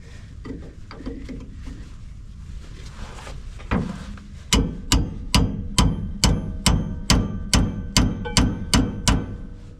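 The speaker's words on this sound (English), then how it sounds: "Hammer. It's hammer time." A hammer strikes metal about a dozen times in a steady rhythm, sharp ringing clanks close by, following some quieter shuffling and tapping.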